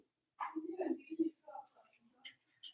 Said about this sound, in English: I have my dog here